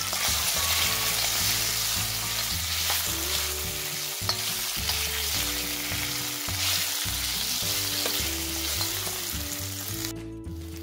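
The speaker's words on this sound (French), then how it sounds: "Je vais maintenant transférer la viande que j'ai pré-cuite tout à l'heure. Et la faire cuire à la poêle." Pre-cooked meat for choukouya, an Ivorian dish, sizzling and frying in a pan, a steady dense crackle with occasional stirring scrapes, close and continuous.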